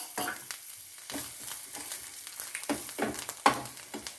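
Curry leaves and other ingredients roasting in oil for a prawn and shallot gravy, with a soft continuous sizzle broken by repeated scraping stirs, close and moderately quiet, with no voices.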